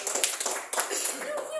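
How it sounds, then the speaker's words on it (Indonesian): A group of schoolchildren clapping for a classmate team in a classroom, a loose spread of hand claps over about two seconds with a voice-like murmur mixed in. "Tepuk tangan dong."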